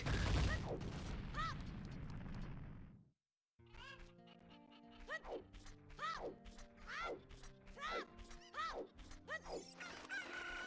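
Cuccos, the chickens in the video game Zelda Ocarina of Time, crow and cluck in a rhythmic series of sharp calls after a noisy opening and a brief dropout, with game music in the background.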